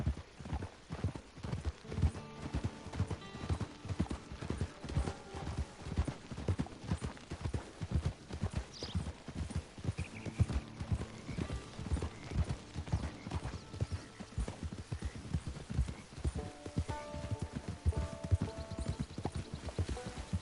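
Horse hooves clip-clop steadily and close in Red Dead Redemption 2, a continuous walking rhythm through the whole stretch, with soft game ambience and a brief whinny-like tone mixed in.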